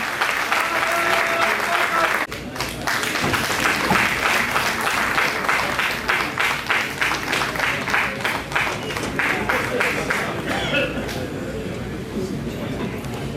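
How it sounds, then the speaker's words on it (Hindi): Sustained loud audience applause fills a ceremony honouring the families of freedom fighters and martyrs, dense and continuous clapping with a brief dip near the start and crowd murmur mixed in. "ताली बजाकर उत्साह कर सकते हैं हम"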